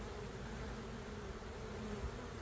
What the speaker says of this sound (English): because there's a ton of bees on it.